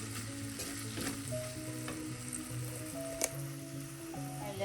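Onions sauté in a pan with spices for a Kerala-style kingfish curry, a soft steady sizzle at low volume with gentle stirring and a single small click partway through, and no voices.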